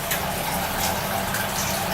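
Shower water runs steadily in a home bathroom, a close, loud, even hiss of spray and splashing that stays constant throughout with no talk over it.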